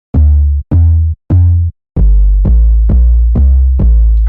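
Deep, booming 808 bass notes in a Dirty South Texas-style beat built in Pro Tools: three short separate hits, then a run of five longer sustained pulses, loud and close with no other sounds.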